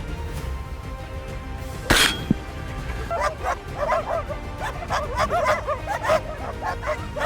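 Hunting dogs bark and yip repeatedly in a lively, overlapping chorus, the calls fairly close and clustered through the second half, with a sharp knock near the start and no talking.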